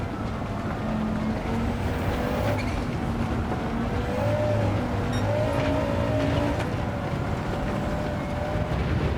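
A 788 hp Mk1 Volkswagen GTI lapping the Nordschleife in Gran Turismo 7: a steady, loud engine drone with wavering pitch as revs rise and fall through corners, over constant road and wind noise.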